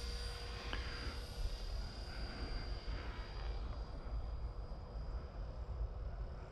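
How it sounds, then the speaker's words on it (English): A Blade 330S RC helicopter flies at a distance, its rotor and motor producing a steady, moderately faint drone with a faint high whine throughout. "this helicopter is very intimidating because it's so big and powerful."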